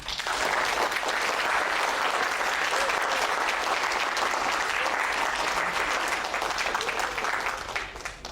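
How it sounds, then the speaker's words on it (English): An audience claps steadily at a creative talk on caricature, a dense, loud wash of many hands that holds for about eight seconds before easing slightly at the end. "Can you clap again?"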